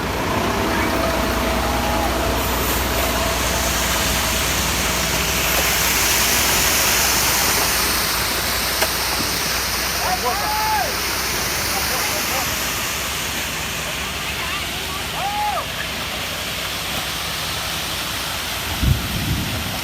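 Wet concrete rushes and churns out of a mixer truck at a construction site pour in a steady, broad roar, with a low engine rumble running underneath throughout.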